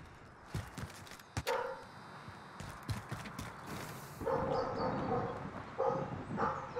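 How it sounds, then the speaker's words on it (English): A dog barks somewhere in the room during an online Modern Warfare match, a few sharp yaps standing out over game sounds and creaking noises. "And my dog is barking."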